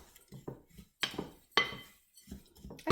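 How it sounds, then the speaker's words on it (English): A spoon scrapes and clinks against a bowl in short bursts as cinnamon and baking powder are stirred together for oatmeal cups, close and fairly loud with brief pauses between strokes. "the cinnamon, and the baking powder. I'm going to stir that up together"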